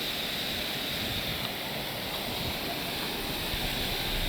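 A 4x4 Mahindra Scorpio SUV drives into a mountain river in Spiti Valley, Himachal, buried under a loud, steady rush of flowing water with no pauses.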